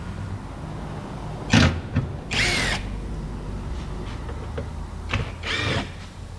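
A power driver backs T30 torx bolts out of the underbody of a Ford Transit Connect, giving short whirring bursts separated by quiet gaps and small clicks, close by.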